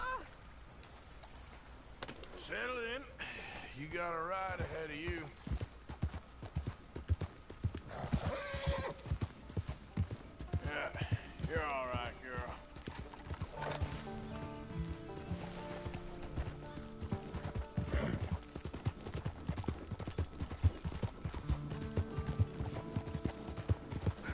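Horse hooves clip-clop with repeated whinnies and neighs in Red Dead Redemption 2, mixed with other game sound effects and occasional voices over a steady busy background.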